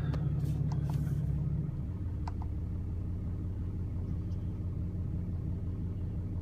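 A 2014 Ram 2500 pickup with a Cummins diesel engine runs on a cold day, giving a steady, loud low rumble. A brief heavier burst comes at the start before it settles into an even idle throughout.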